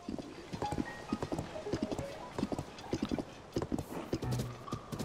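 Rapid hoofbeats of Ganon's giant horse galloping in the video game The Legend of Zelda: Tears of the Kingdom pound steadily and close, a rhythmic clip-clop that carries on without pause, with a brief low snort near the end.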